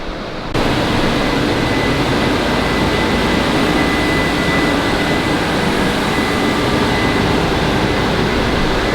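A twin-turbo F-body car on a dyno roars at a sustained, loud, broadband full-throttle pitch after a brief quieter start, filling the whole clip with a steady, dense engine-and-turbo rush and no talk.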